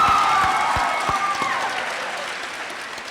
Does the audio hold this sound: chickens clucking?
no